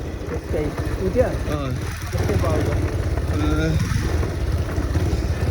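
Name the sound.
motorcycle engine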